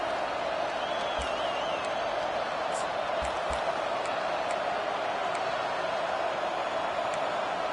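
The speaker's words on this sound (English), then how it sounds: "with this place rocking, the crowd forces a false start" Steady roar of a packed stadium crowd at a South Carolina college football game, loud and continuous with no talk, swelling faintly with scattered whistles and whoops through the din.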